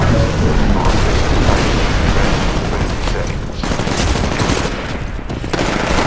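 Loud, dense automatic gunfire and booming blasts from the Titanfall video game roar almost without pause, with a brief dip near the end before the firing resumes.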